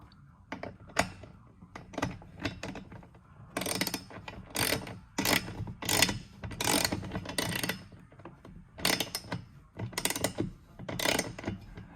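Rapid ratcheting clicks from a wrench turning a 13 mm bolt that spins freely while a DeeZee roof rack is fitted to a two-door Jeep Wrangler JL, coming in repeated bursts with short pauses, close and fairly loud.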